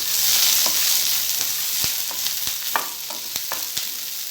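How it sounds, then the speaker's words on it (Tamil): Green chillies and cashew nuts sautéing in a pan for a white kurma, a steady close sizzle with a few sharp stirring clicks and scrapes of the spoon, no talking. "இந்த பச்சை மிளகாய் நல்லா நமக்கு வதங்கட்டும்."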